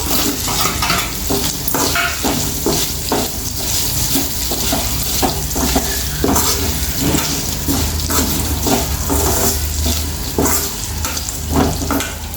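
Potatoes frying with cashews in a pan for potato rice, a loud steady sizzle under repeated scraping stirs and occasional clinks of the utensil.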